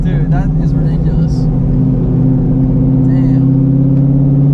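A modified 800-horsepower Shelby GT350 engine holds a loud, steady high-rev drone from start to finish, its deep harmonic hum running constant while people talk excitedly over it.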